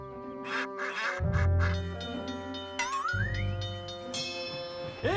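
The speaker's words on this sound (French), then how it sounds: "Bougez-vous les plumes, les canards." Cartoon ducks quack repeatedly in a Thomas & Friends scene, loud nasal calls that overlap with music and other animated sound effects throughout.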